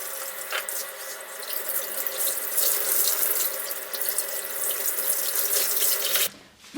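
Tap water runs steadily into a sink while hair is rinsed after a plant-based herbal hair colour, a continuous close hiss lasting several seconds that cuts off abruptly near the end.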